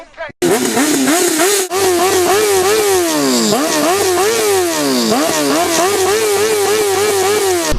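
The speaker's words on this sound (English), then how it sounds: "rev the hell out of their bike" A motorcycle engine revs loudly and close up, its pitch repeatedly climbing and dropping in quick throttle bursts over a steady idle rumble.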